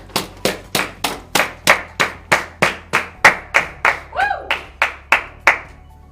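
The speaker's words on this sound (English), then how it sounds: "so please give a round of applause to our next presenter." Slow, evenly spaced hand claps ring out one after another, sharp and loud, about two or three per second, with a brief vocal whoop partway through, greeting the next presenter at a corporate expo.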